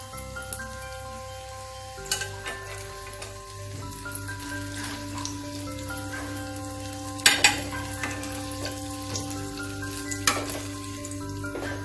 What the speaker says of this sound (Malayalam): ഇനി ഇത് ചൂടായ എണ്ണയിലേക്ക് ഇട്ട് നമുക്കൊന്ന് ഫ്രൈ ചെയ്തെടുക്കാം